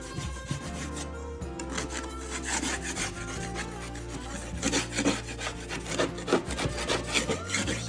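A scraper drags repeatedly across a drywall patch, smoothing off excess joint compound in steady, close rasping strokes that grow a little stronger toward the end, with no voices.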